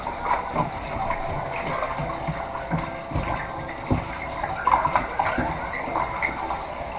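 Tap water runs and splashes continuously as raw chicken legs are rinsed in a bowl, a moderate steady gush with small sloshing bursts and no talk.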